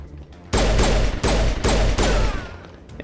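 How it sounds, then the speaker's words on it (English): Pistol fire in the sci-fi shooter Mass Effect: four loud, closely spaced gunshot bursts with booming reverb tails, then fading into quieter game ambience. "we're just gonna finish this off with the pistol"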